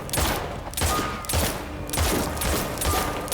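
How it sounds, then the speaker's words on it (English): Gunfire in a TV crime drama series, a rapid rattling fusillade of repeated loud shots in close bursts lasting the full few seconds, with no talking over it. "What the fuck you shooting at?"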